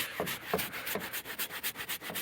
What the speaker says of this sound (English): So I'm gonna give this a good scrub down, loosen up all that stuff